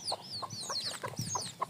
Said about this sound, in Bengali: আমি এই যে ছাদে ১০টি দেশি মুরগি দ্বারা